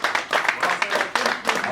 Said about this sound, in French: Applaudissons très fort son entrée